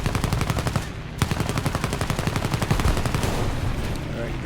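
Bursts of machine-gun fire from a C.R.42 biplane fighter in War Thunder air combat, rapid loud rattling shots in dense volleys over a steady engine drone, briefly pausing near one second before resuming.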